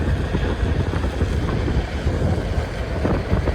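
Chilly outdoor wind buffets the microphone in a residential neighborhood, a loud, continuous low roar with gusty fluctuations and no talk.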